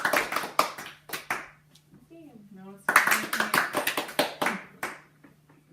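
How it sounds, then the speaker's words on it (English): A group of people clapping hands in a room, a run of quick claps at the start and a denser, louder burst of applause later, with talking mixed in and a tonal beep in the quieter middle stretch. "Because you guys clapped right."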